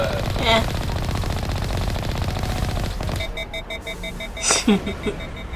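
Gunfire from the Mass Effect 2 video game, a dense sustained burst of rapid shots for about three seconds, then a few sharper reports and electronic tones, loud and close.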